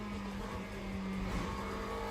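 A McLaren GT3 race car in the Le Mans Ultimate sim drones on at a steady engine tone with faint rises, continuous and moderately loud with no talk.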